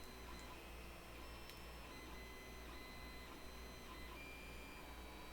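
A 3D printer for a BLV MGN Cube build hums steadily in the background, with faint high-pitched motor whines and occasional ticks over a constant low drone, quiet and continuous with no talking.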